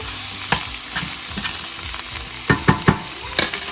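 Vegetables frying in a kadhai and stirred with a spatula, a steady sizzle under repeated scraping strokes, sparse at first, then a quick cluster of three near the end.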